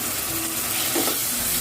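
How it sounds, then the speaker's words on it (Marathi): Two medium tomatoes, finely chopped, hit hot spiced oil in a pan for potato bhaji, giving a steady, close sizzle with a faint bubbling swell, with no talking. "त्यानंतर लगेच यात टोमॅटो घालायचे आहे।"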